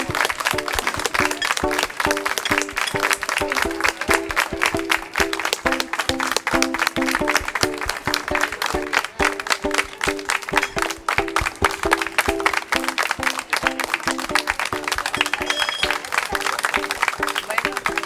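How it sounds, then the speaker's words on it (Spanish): Audience at a puppet show marathon breaks into loud, sustained applause, dense clapping continuing steadily for the whole stretch, with a steady musical tone underneath. "quisiera que le dedicáramos un minuto de aplauso"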